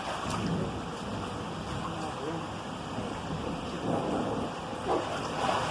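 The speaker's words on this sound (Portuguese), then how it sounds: "Que chuvinha boa na casa do pai." Steady rain falls outside a home, a broad continuous hiss with a few louder swells, while a child plays nearby and faint voices come and go underneath.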